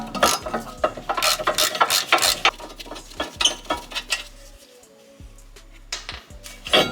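A ratchet wrench loosens a crusty brake caliper bracket bolt on a 2018 Honda Civic Si. Quick runs of sharp clicks come up close, with brief pauses between bursts and no talking.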